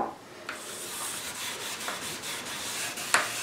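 Wood stain is rubbed by hand onto a guitar headstock from a Harley Benton kit build, a soft close rubbing hiss in repeated short strokes with a few light knocks, no voices.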